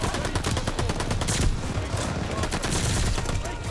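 Rapid gunfire in the Call of Duty Vanguard video game, a dense run of sharp repeated shots with loud bursts, fast and close.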